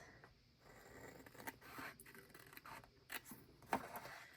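Scissors snip and trim loose tape ends on a creative journal spread, a few quiet, close cuts and small scrapes scattered across a few seconds.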